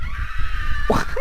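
Short, sharp scream sound effect from a Roblox horror game, a single rising shriek bursting out near the end of a brief moment over a dense, noisy background.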